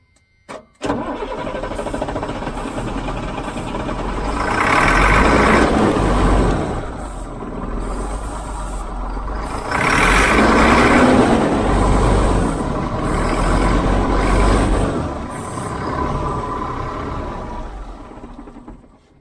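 A Freightliner FL70 truck with a Cat diesel engine starts after a brief click and runs loudly up close, its rumble swelling in two long surges before settling back to a steady idle.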